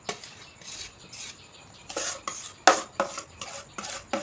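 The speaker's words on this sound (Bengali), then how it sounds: "এবারে আমি এটা থালায় সার্ভ করে দিচ্ছি" Homemade pumpkin cake being served onto a plate, with a series of short scraping and clinking utensil sounds against the dish, irregular and fairly close, no talk.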